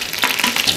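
Ghee added to about six litres of hot coconut oil for a tempering at a large feast sizzles in a loud, bright, continuous hiss with a few crackling surges, close by and with no one speaking.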